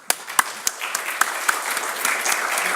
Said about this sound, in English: Let's give applause to Tuomo.